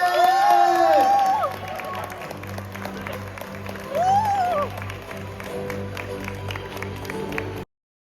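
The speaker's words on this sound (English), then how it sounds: "Let's all give a huge round of applause to Chong Kenshin!" A large audience claps and cheers for the category A champion at an award ceremony, the applause loud and sustained under an announcer's amplified voice and background music.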